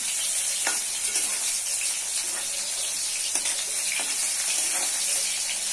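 Long bean pakoras frying in oil, producing a constant close crackling sizzle with a few light taps and scrapes as the pieces are turned, no voices over it.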